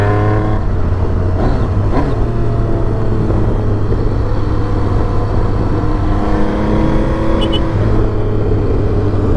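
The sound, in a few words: old car driving and shifting gears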